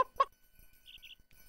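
A cartoon chick gives a few soft, quick clucking chirps, faint and close, with brief clicks and rustles around them in a quiet scene.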